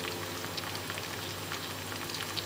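Quiet, steady sizzling and crackling of pepperoni frying in a pan, soft and continuous with tiny pops scattered throughout.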